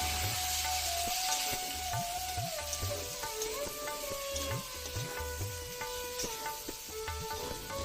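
Fried eggplant being stirred in fish oil in a wok, with a steady, loud sizzle and hiss of frying and repeated scraping strokes of the spatula throughout, no talking.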